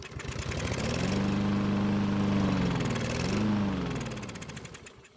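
A gasoline lawn mower engine, fed stale ethanol-blended fuel left in the tank over winter, briefly catches and runs roughly, its note rising and dipping before sputtering out, loud and close with no talk.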